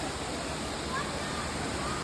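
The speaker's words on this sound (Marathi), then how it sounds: "मस्त धबधबा आहे बघा" The Amboli waterfall gives a steady, broadband roar of rushing water that stays constant throughout, heard from some distance.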